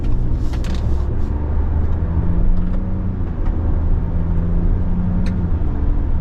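A 2025 Ram 1500 Laramie 4x4 pickup truck drives along a road, giving a steady, loud low engine and tire rumble from inside the cab with no talking.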